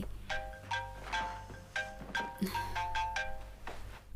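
A phone ringtone from a TV drama plays a repeating electronic melody of short tonal notes in a steady rhythm at moderate volume, with a low hum underneath.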